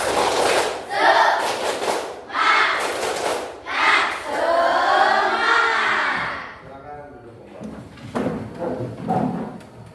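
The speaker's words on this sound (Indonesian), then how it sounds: "Silakan kalian tepuk semangat lagi. 1, 2, 3." Standing fifth-grade pupils do a rhythmic spirit clap in their classroom, with groups of brisk claps mixed with loud collective shouting and chanting voices, then a quieter stretch of scattered taps and talk.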